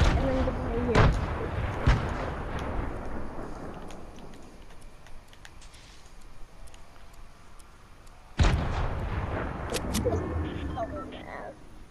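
Grenade blasts in Fortnite: two heavy booming detonations with rumbling decay, one near the start and another after a lull, with game noise in between and players talking over the action.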